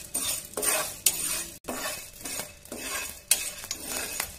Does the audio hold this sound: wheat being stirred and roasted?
yes